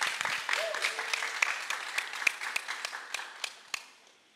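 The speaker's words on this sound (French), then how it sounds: "Allez, applaudissez" A class of students claps together, with scattered individual hand claps close by that thin out and fade toward the end, and a brief faint tone early on.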